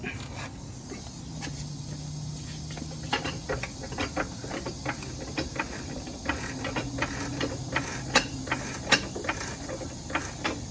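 Ratcheting clicks from a jack lifting a 2010 Dodge Challenger SRT8 6.1 during rear brake work, with repeated sharp mechanical ticks in an uneven rhythm over a low steady background, close by and moderately loud.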